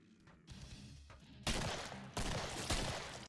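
Gunfire in the video game Killing Floor starts as quieter shots, then breaks into heavy, loud volleys of rapid fire with short gaps between them, and no one talks.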